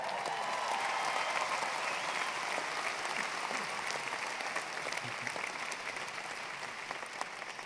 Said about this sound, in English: Okay, you can clap